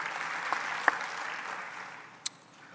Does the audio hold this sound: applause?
yes